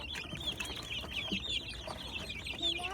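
Young rooster and chickens clucking steadily at close range, with bird calls running through the whole stretch and no talking.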